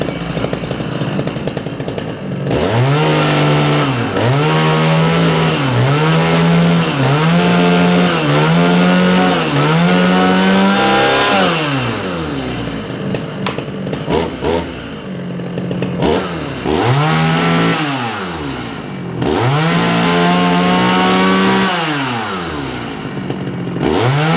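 A vintage Makita DCS520 chainsaw, the same as a Dolmar PS111, with an 18-inch bar and a dull chain, roars loud and close, revved up and down repeatedly between brief idles.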